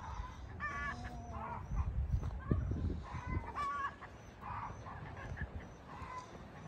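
Free-range hens clucking and squawking in short bursts nearby, with a low wind rumble and some faint background noise throughout.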